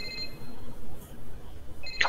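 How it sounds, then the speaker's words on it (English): A phone rings in an animated Splatoon scene, a short bright ring that lasts about two seconds over a low background hum. "That's the longest phone ring ever."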